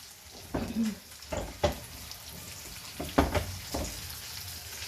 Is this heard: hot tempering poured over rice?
yes